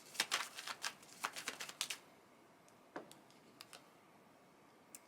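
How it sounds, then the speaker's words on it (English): Tarot cards being shuffled and drawn from a deck, a quick burst of crisp riffling clicks for about two seconds, then a few sparse, faint card taps in a quiet room. "Let's get one more tarot card from this deck."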